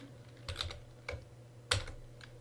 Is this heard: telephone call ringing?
no